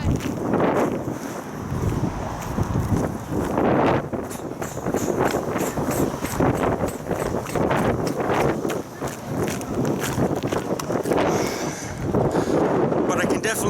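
Strong wind gusts across a sandy beach, buffeting the microphone with loud, continuous roaring rumble that rises and falls in waves throughout.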